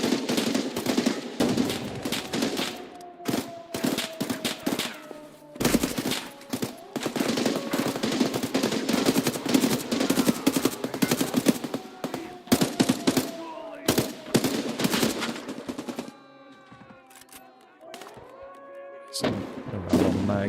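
Gunfire from a fight outside in the video game Escape from Tarkov, with rapid automatic bursts and thudding shots repeating loudly for most of the time, pausing briefly before resuming.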